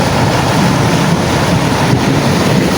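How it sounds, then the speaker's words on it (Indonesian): Large ocean waves roll and crash on a shore in a steady, loud, continuous surf roar, mixed with heavy wind buffeting the microphone throughout. "ombaknya sahabat-sahabat sangat besar sekali sahabat-sahabat"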